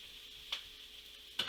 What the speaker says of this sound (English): Some really exciting guy stirring it up in a pan